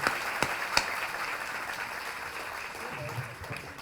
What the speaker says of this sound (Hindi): अपनी तालियों से बता दें कि आप यहाँ पे हैं